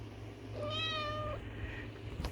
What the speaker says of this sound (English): Meow. Meow. Meow. This is Dusty.